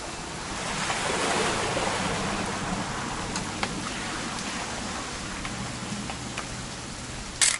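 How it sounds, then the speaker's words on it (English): Steady rain falls in the video game What Remains of Edith Finch, a dense, even hiss of drops holding at a constant level throughout, with a few faint taps and a brief louder knock at the very end and no voices. "It's gonna rain the whole weekend,"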